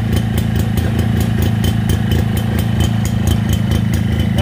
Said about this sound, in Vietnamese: cái tiếng máy nổ y chang như xì bo luôn